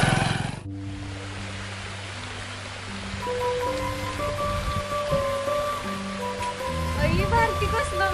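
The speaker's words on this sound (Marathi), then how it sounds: "कसलं भारी पाणी गळे कसलं भारी वाटतं ना" Water falls at a waterfall in a steady broadband rushing roar that continues throughout, with people talking over it and music tones in the background.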